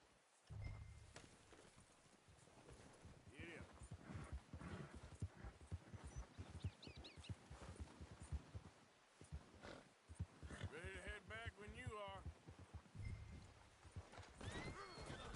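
A packed horse walks with steady clip-clopping hooves, snorting and whinnying now and then, with rustling and movement around it outdoors.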